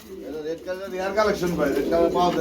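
Pigeons, a pair of American Lakka, coo repeatedly at close range, soft throaty calls rising over a voice speaking throughout.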